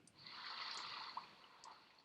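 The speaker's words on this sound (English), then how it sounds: "Turns off the water." Running water in the video game Marathon: Freefall, a steady hissing stream lasting about two seconds with a brief splash or drip partway through, heard alone.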